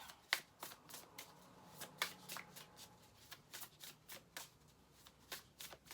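A deck of cards is shuffled for a tarot-style reading, with soft riffling and a steady series of quick papery flicks and taps, close and quiet, with no talking.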